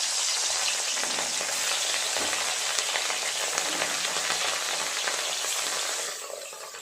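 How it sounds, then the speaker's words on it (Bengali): Fish pieces frying in well-heated oil make a loud, steady, dense sizzle close by. It runs without a break and eases off slightly near the end. "তেল খুব ভালোভাবে গরম হয়ে গেছে। এক এক করে মাছগুলো দিয়ে ভেজে নেব।"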